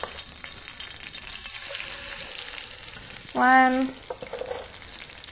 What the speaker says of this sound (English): So now that the pan's nice and hot, we're just going to drop the chops in.